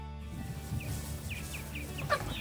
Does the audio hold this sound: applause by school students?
no